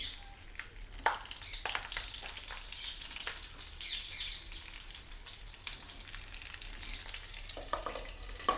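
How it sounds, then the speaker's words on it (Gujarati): Stuffed chillies fry in hot oil with a continuous bubbling sizzle, with occasional clinks and scrapes as they are set in the pan. "તો તેલ થઈ ગયું છે અને આપણે એમાં મરચાં ગોઠવી દઈશું"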